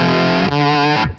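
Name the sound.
guitar amp with Analog Man Bad Bob boost pedal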